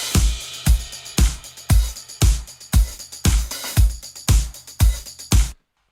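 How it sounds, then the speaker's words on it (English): Drum loop layered with hi-hat and tambourine percussion samples, a steady run of about a dozen punchy hits with strong low thumps and bright shimmering highs, loud and alone before cutting off abruptly near the end. "So I added all of this other like percussion stuff, some hats and some tambourines and bunch of stuff, bunch of samples."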